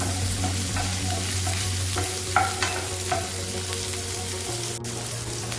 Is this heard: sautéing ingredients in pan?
yes